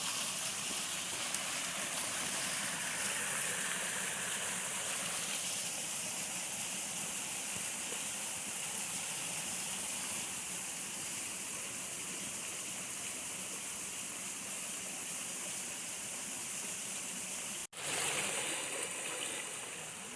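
Steady broadband rush of creek water flowing near a hiking trail and campsite in Pine Mountain, Georgia, continuous and fairly close for the whole stretch, with a brief sharp dropout near the end and no talk.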